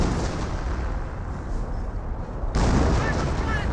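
An off-map artillery barrage in the World War II strategy game Company of Heroes sets off dense, rumbling, continuous explosions that swell louder partway through, a heavy sustained roar of impacts.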